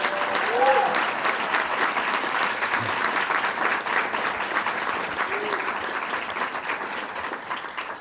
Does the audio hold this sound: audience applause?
yes